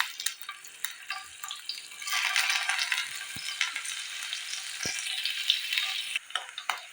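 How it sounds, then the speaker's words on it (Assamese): Paneer pieces go into hot oil in a kadai and fry with a bright, crackling sizzle, punctuated by occasional clicks and stirring knocks, moderately close and heard without talking. "তেল ভালদৰে গৰম হৈছে। ইয়াতে দি দিম মই পনীৰ কেইপিচ।"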